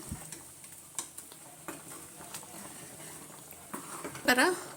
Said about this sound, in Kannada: ಇಲ್ಲಿ ಸಾರು ಚೆನ್ನಾಗಿ ಕುದೀತಾ ಇದೆ, ಮಟನ್ ಸಾರು.